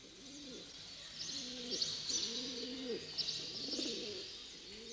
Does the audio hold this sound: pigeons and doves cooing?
yes